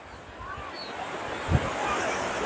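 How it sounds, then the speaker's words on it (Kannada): Sea waves wash at Malpe beach in Udupi, coastal Karnataka, beside the floating bridge: a steady, close, broad rush of surf with wind buffeting the microphone and one brief louder surge near the middle. "ನೀವು ನಡ್ಕೊಂಡು ಹೋಗ್ತಿರುವಾಗ ಅಲೆ ಬರುತ್ತೆ, ಅವಾಗ ಅದು ಫ್ಲೋಟ್ ಆಗುತ್ತೆ."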